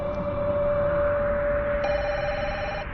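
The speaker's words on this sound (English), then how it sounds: "The same night, around 2 a.m., Malvern police get an unexpected phone call." A telephone rings at night, a steady electronic ring tone sustained throughout at moderate loudness against a low background hum.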